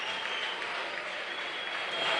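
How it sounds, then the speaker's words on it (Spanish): Continuous crowd applause at an event in a fashionable party hall, a dense, steady wash of clapping heard at a moderate level throughout. "¡Aplaudid más, Aplauso, coño!"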